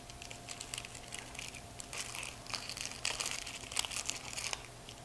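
Papery crackling and crinkling as the dry outer layer is peeled off a yellow onion, a run of close, fairly quiet rustles and small snaps heard alone.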